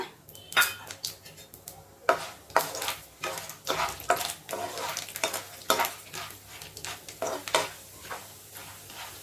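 Roasted split gram fries in hot oil in a pan while a ladle stirs it, giving repeated metallic scrapes and clinks over a continuous sizzle, close and moderately loud.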